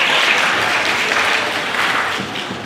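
A room of school principals at a retreat opening ceremony claps enthusiastically, a loud continuous patter of many hands that begins to taper off near the end.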